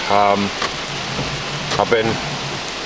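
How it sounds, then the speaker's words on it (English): Heavy rain hisses steadily on a parked car during an outing near an old inn site in Cumbria, a dense wash of drumming that persists throughout while someone talks briefly over it. "Okay, and down comes the rain."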